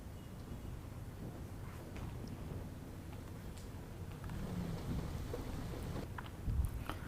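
Heavy rain pours in a thunderstorm as a constant dense roar, with low rumbling swells and a slightly louder surge toward the end.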